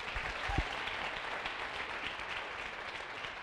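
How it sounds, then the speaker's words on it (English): Warm sustained applause from a gala audience honoring a woman, thick even clapping from a large crowd with a single brief knock near the start. "Join me in giving her a round of applause."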